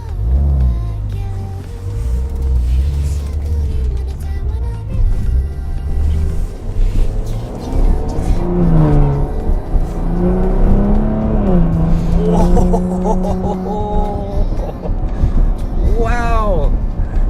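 A 2019 Maserati Levante S engine accelerates and revs loudly, with rising and falling pitch sweeps heard from inside the cabin while someone talks over it.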